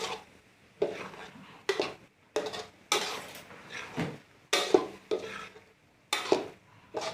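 Minced pork for khua kling, a dry Thai curry, is stirred and scraped around a pan with a spoon in about eight firm, evenly spaced strokes. Each stroke is a close, gritty scrape, with short pauses between and no talking.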